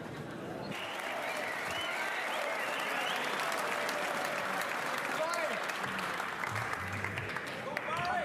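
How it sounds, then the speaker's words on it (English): A packed, raucous crowd at Belfast's Waterfront Hall applauds and cheers a frame win in a Northern Ireland Open snooker semi-final, a loud continuous roar of clapping with a commentator talking over it. "A big cheer from this raucous and packed crowd at the Waterfront Hall."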